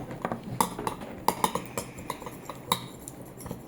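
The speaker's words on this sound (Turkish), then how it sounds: "Şimdi karıştırıyorum." A spoon clinks and scrapes against a bowl while a mixture is stirred, light metallic ticks and taps coming in an irregular rhythm, close and fairly quiet.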